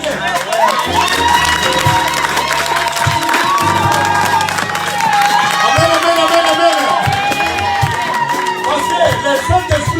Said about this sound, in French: il faut applaudir bien le Seigneur.